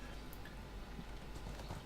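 Horse hooves clip-clop in the online game ArcheAge, a quick, even trot of close hoofbeats running continuously over faint background ambience.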